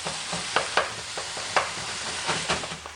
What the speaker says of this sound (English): just keep on cooking it until all your mince is cooked all the way through